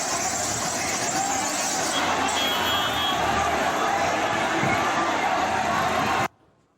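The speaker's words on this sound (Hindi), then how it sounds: "मुंबई में बेकाबू भीड़, घर जाने को बेकाबू मजदूरों ने हंगामा किया।" Loud, dense crowd din from an unruly gathering of migrant workers outside Bandra station in Mumbai, a continuous roar of many voices with a faint squeal that cuts off abruptly near the end.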